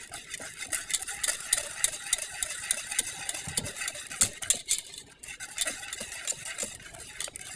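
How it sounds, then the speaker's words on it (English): Butter being stirred into cobbler sauce in a pot, a busy, close run of metal spoon scraping and clinking against the pot with quick irregular strokes throughout. "continue to stir until the butter melts and it's done."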